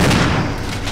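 Gunfire in the Resident Evil Remake video game as zombies are shot, a loud booming blast at the start that decays into a rumbling tail.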